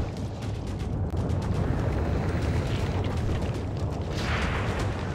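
A submarine volcanic eruption off Iceland produces a loud, continuous low rumble with dense roaring texture throughout, steady in level with no pauses and no voices.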